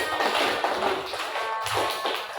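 Classroom of students clapping their hands together, a dense burst of overlapping claps that is fairly close and moderately loud and fades slightly toward the end.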